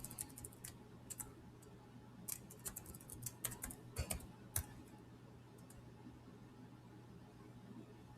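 Someone types an email address and password on a computer keyboard, producing quiet, irregular clusters of key clicks over a low steady room hum. Brief pauses separate the bursts of keystrokes.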